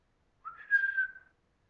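A reader of the Christmas poem whistles to imitate a sleigh driver calling his team: a single clear whistle about a second long that rises, then holds a steady pitch, alone and fairly quiet.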